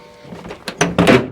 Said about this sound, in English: just don't know how to open a door